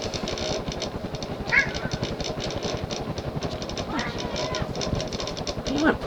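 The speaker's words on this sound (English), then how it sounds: "The motor has a slight running moan to it" The motor of a Sears Emerson plastic 54-inch ceiling fan runs with a steady low hum and a slight moan, while a cat meows faintly now and then over it.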